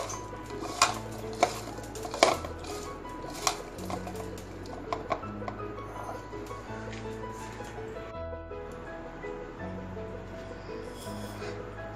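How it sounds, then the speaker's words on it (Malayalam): Ivy gourd and sliced onion being mixed with salt by hand in a bowl, giving soft irregular rustles and squishes with a few sharper clicks, fairly quiet and close. "ആവശ്യത്തിന് ഉപ്പിട്ടിട്ട് ഇത് നന്നായി കൈകൊണ്ട് പെശഞ്ഞ് വയ്ക്കുക."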